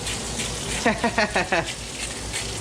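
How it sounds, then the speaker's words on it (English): Meat sizzles in a pan with a steady crackling hiss, and a short burst of voice is briefly heard over it. "we're gonna get some sizzle now"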